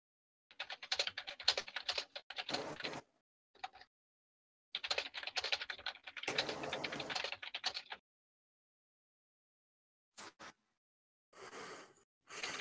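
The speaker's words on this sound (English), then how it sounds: "Sorry, I was typing." Rapid bursts of typing on a computer keyboard, close and clear, clattering in several runs separated by short silences.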